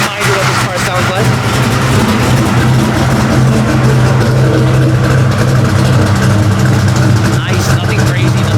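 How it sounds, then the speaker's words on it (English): A 1989 Ford Mustang Foxbody notchback engine idles with a deep, steady, loud rumble held for several seconds. "let me just give you a reminder what this car sounds like"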